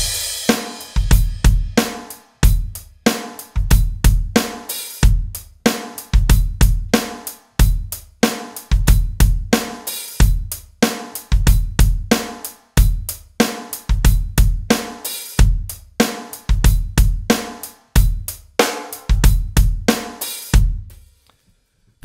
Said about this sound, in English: ba-bomb, two quick kicks on the bass drum